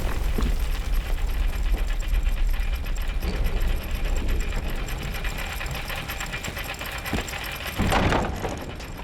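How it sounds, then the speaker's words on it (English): A steady mechanical rattle and grinding hum comes from an elevator mechanism moving in the dark-fantasy dungeon game Dark and Darker, running continuously and fairly loud with a brief heavier clunk near the end. "there's one more elevator, so you just gotta wait for that shit to come down"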